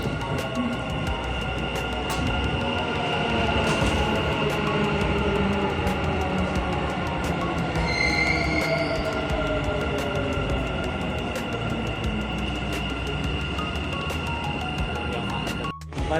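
Dubai Metro train running, a steady loud rumble of the carriage in motion with wheel and rail noise and faint squeals, continuous throughout with a brief drop near the end.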